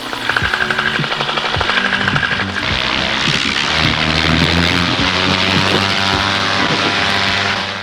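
Paramotor engine at a powered paragliding fly-in, loud close propeller drone with a choppy pulsing start that settles into a steady high-revving roar as the pilot launches on a new wing.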